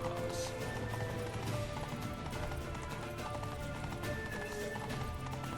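Horse hooves clip-clopping at a steady gait in a Witcher 3 playthrough, a dense continuous stream under music and ambient game sound.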